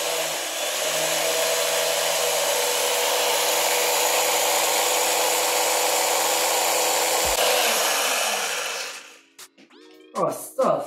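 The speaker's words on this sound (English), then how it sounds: "Egg whites, and I have zero energy to do it by hand today. So it's going into the ninja." A Ninja blender whips egg whites with a loud, steady motor whir that runs for about nine seconds before cutting off, followed by brief voices.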